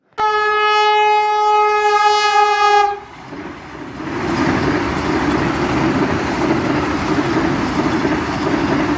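A train passes a railway level crossing: a loud, sustained horn blast for about three seconds, then a dense, steady roar and rattle of rolling cars close by, with no voices.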